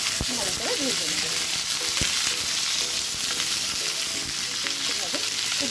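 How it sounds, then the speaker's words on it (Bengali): Potato and pointed gourd fry together in oil in a home kitchen, giving a steady, close sizzle throughout with occasional stirring clinks and faint utensil scrapes. "আমি আগে থেকে পটলটা ভেজে নিয়ে একসাথেই আলু আর পটলটা ভালো করে ভেজে নেব।"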